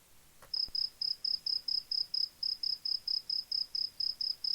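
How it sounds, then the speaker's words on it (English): Crickets chirping in a steady, even rhythm of short bright pulses, about sixteen chirps alone against a quiet background after a brief soft knock. "Crickets. Just crickets."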